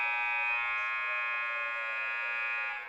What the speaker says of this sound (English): And we'll hear the third quarter buzzer here.